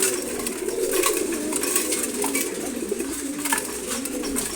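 Pigeons, including a chila male and a female, cooing in low, repeated murmurs while busy eating at close range, with light pecking taps between calls.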